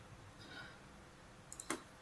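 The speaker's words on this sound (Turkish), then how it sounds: "tıkla ona bir kez" A few quick mouse clicks, light sharp ticks close together near the end of a quiet moment, faint and alone.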